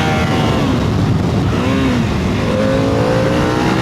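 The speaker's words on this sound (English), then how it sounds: "I was going through the gears, quick shift, full throttle, and it put it into neutral" A motorcycle accelerating hard through its gears with a quick shifter at full throttle, engine note rising steadily and continuously up close, loud throughout with no voices.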